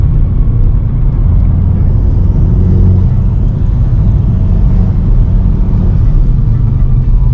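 From inside a Volkswagen Golf GTI Mk7.5 Performance with 315 hp, a loud steady road drone and engine rumble fill the cabin as the car drives along a smooth road, with no voices.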